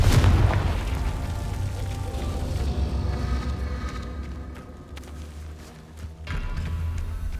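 A Confringo fire spell bursts in the Hogwarts Legacy game with a heavy, booming explosion that hits at once and then rumbles and fades away over several seconds.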